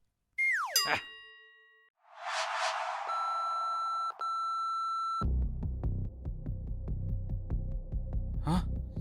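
A phone message notification tone opens with a short bright chime, then gives way to a sustained electronic hum and a throbbing pulse. The sounds are clear and fairly loud, with no talking.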